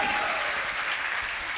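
Steady audience applause fills the space at a Jain religious gathering in Tikamgarh, Madhya Pradesh, a dense, even clatter of many hands held at constant loudness from start to finish.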